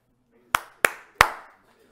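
Three sharp hand claps ring out close and distinct against near silence, spaced slightly unevenly, each with a short decay.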